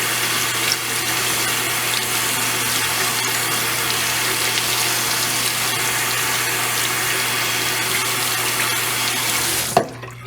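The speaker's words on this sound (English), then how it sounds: "we have to wash it with a lukewarm water" Lukewarm water runs steadily from a tap while face cream is washed off, a continuous even splashing stream close by, cut off abruptly near the end with a brief clunk.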